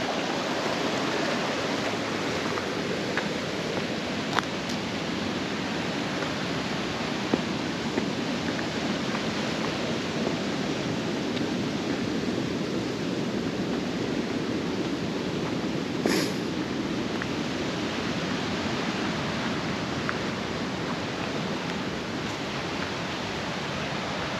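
A creek rages through a deep gorge below a hilltop in Blind River Provincial Park, making a steady, unbroken rush of water that carries on alone from start to finish.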